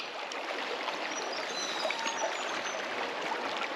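A river flowing steadily, with a soft, continuous rush and trickle of water heard close by and fairly quiet.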